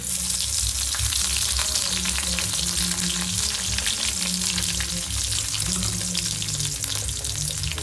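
Whole garam masala spices and bay leaves sizzle steadily in hot oil, a dense continuous frying crackle that stays loud and even throughout with no voices.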